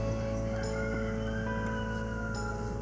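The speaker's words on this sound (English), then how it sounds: "Hear that rooster?" A rooster crows in a backyard, a faint distant call twice over a steady loud outdoor hum, with no talking.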